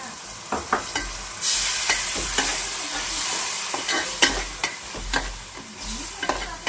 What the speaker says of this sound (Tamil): இந்த கிரேவி நல்லா கொதிச்சு வந்துருச்சு.